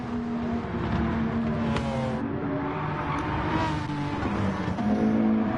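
A McLaren race car in Gran Turismo 7 during a GT3 endurance race at Daytona drones steadily at high revs, a continuous engine whine shifting pitch as it accelerates, with no talk.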